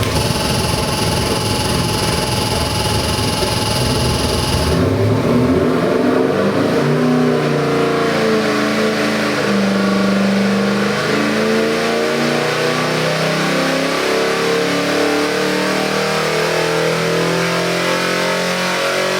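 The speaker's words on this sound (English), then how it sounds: "That's how a motor's supposed to fire up." A 427ci 351W stroker crate engine with a tuned carburetor, bound for a 1970 Mustang, fires up loud and close, then revs and rumbles with a lumpy, uneven throb throughout, with no voices.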